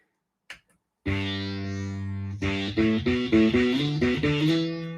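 A U-Bass rings out through a DigiTech BP80 multi-effects processor with phaser and distortion: one long, buzzing sustained note, then a quick run of shorter notes, close and loud.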